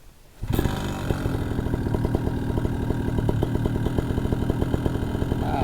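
A Vitorazzi Moster 185 paramotor engine, freshly carburetor-tuned, starts after a brief quiet moment and runs steadily, close and loud, with an even, rapid firing pulse throughout.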